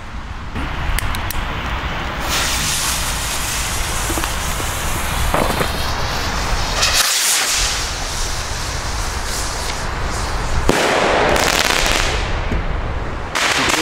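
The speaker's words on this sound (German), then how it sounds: "Und genau diese Rakete werden wir jetzt zünden." A Leslie wish rocket is launched during New Year's Eve fireworks, part of a loud, dense stretch of crackling bursts and bangs that runs nearly unbroken for about fourteen seconds, with one brief drop around the middle.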